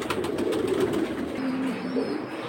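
Pigeons at a loft of high-flying fancy breeds coo in soft, repeated throaty phrases, close by and fairly loud against light background noise.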